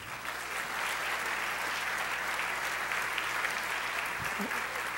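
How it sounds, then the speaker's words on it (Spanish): A crowd at a university graduation ceremony applauds steadily, a dense wash of clapping that holds at a constant level from start to finish. "Un fuerte y merecido aplauso para todos ellos"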